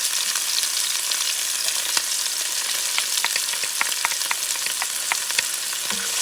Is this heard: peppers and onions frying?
yes